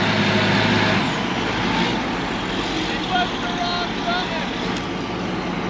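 18-wheeler truck dropping its air suspension airbag while stuck, a loud hiss of released air over a rumbling engine, followed by a continuing idle.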